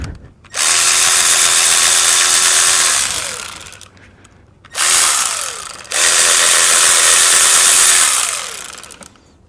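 Cordless power tool driving out water pump bolts on a GM Ecotec 1.4L engine, three loud sustained whirring bursts with brief pauses between, each winding down at the end.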